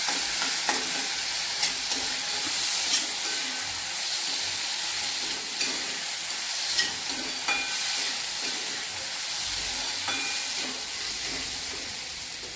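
Safflower leaves sauté in hot oil in a pan, a continuous bright sizzle and hiss with occasional stirring scrapes and taps, close and steady, no talking.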